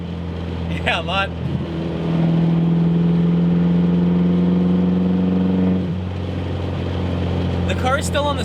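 Inside a moving Mini, the engine hums steadily with a clear rising tone as it accelerates, then settles back, close and continuous while people talk over it.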